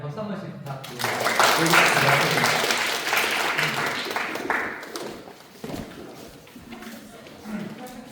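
A small group at an orientation session claps in a brief round of applause that peaks early and fades within a few seconds, followed by scattered claps and faint room noise.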